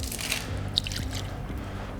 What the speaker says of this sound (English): I'm going to wash it off with normal clean water